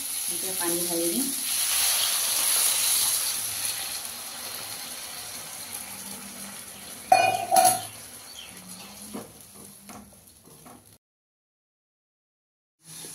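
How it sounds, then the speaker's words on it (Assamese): Water is poured into vegetables frying in a pan, giving a steady sizzle with a sharp hiss and bubbling burst midway, then a fading simmer and a short silence. "চব্জি এতিয়া পানী ঢালি দিম।"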